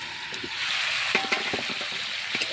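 Poultry chicken pieces braising with spices and oil in a pan over low heat as the water cooks off, giving a steady close sizzle with small crackles and pops throughout.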